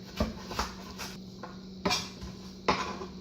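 Chopped apple pieces drop into a pot in a few separate soft clunks and clatters, close and fairly quiet over a low kitchen hum, with no talking.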